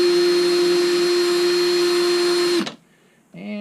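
Power sanding on a pipe for a Turner motor bushing, a steady loud electric whine with a strong sustained tone that cuts off sharply near the end, followed by brief talk.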